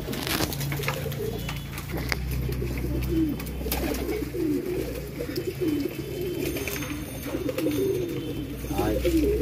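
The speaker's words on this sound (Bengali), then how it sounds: "গিরিবাজ মুশকি পায়রা" Giribaz Mushki pigeons coo in a steady series of soft, throaty calls at a pigeon farm, close by, with a low hum and bursts of background noise throughout.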